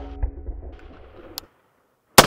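A single gunshot fired at body armor during a plastic, ceramic and steel armor comparison: one sharp, loud report at the end, after a stretch of low rumbling activity and a brief click.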